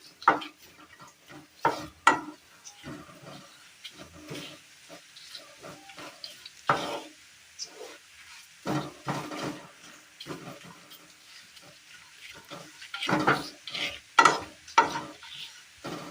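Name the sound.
stirring coriander powder, meat masala and turmeric in a frying pan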